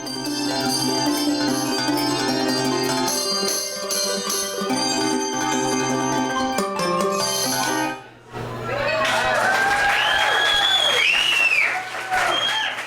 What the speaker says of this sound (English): So the small bells play the high pitches and the really big bells play the low pitches.